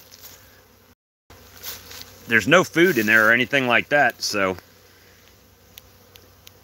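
Bees buzzing around a hive outdoors, a faint steady insect hum behind someone talking close to the microphone, with the buzz continuing on its own after he stops.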